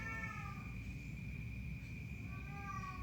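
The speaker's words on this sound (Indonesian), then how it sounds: "kucing gua mau masuk tuh," A pet cat meows at the door, wanting to be let in: two drawn-out, tonal meows, one at the start and one at the end, over a steady low indoor hum.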